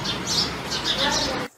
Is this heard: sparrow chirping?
yes